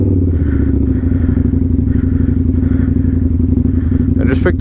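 A Harley-Davidson motorcycle rides through a snowy blizzard, its loud, steady engine rumble continuous and close throughout, with a brief clattering scrape near the end.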